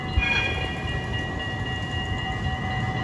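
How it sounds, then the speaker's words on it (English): A city tram passes on a street in Amsterdam, Netherlands, with a steady rolling rumble and a faint high tonal whine, continuous and fairly near, with no talk. "Here we can see now a tram coming over."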